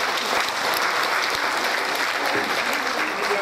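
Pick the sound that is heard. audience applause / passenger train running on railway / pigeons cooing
audience applause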